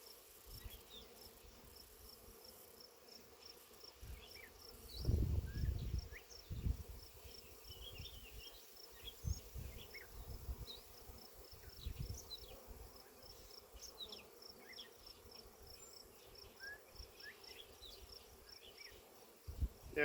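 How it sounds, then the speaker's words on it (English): Dense, steady hum of honey bees buzzing throughout an active beehive during a hive inspection, a close continuous drone with individual insects darting past and occasional handling thumps and rustles. "we definitely have a very active hive"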